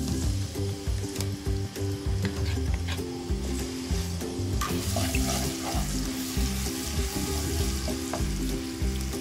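Ginger garlic paste sizzling and frying in hot cooking oil in a pan, a steady loud crackle with stirring clatter throughout, no talking.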